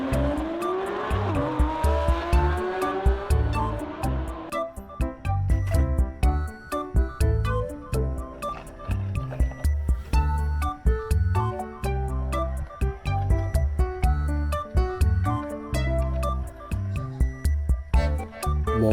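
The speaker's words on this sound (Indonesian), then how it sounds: "Lamborghini" A Lamborghini sports car revs with rising engine sweeps, then tires squeal and skid repeatedly over a steady, loud rhythmic beat.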